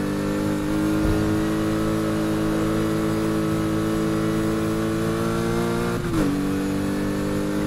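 Lotus Exige S in Need for Speed Heat, its engine holding a steady, buzzing drone with a brief dip and shift in pitch near the end.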